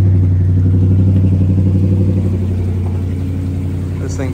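A fishing boat engine on Lake Erie drones with a strong, steady low hum and a regular pulsing beat throughout, loud and close, with no speech over it.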